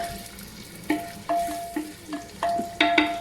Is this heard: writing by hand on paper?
no